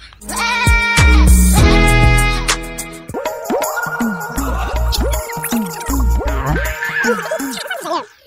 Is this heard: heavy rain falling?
no